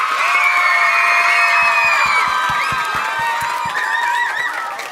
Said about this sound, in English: give your parents a giant round of applause